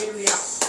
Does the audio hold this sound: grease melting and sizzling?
no